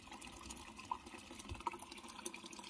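A faulty washing machine that keeps taking in water and won't spin, with a problem in its water hose, fills through its hose with a steady, quiet flow of running water and occasional faint drips and clicks.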